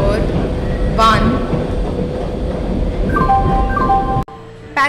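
The Palace on Wheels Special Express train pulls into platform 1 at an Indian station in a train simulator game, with a loud, steady rolling rumble, drawn-out horn-like tones and an abrupt cut near the end.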